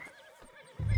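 A horse whinnies in Red Dead Redemption 2, a high nasal neigh followed by a louder low snort or stamp near the end, heard alone with no talk.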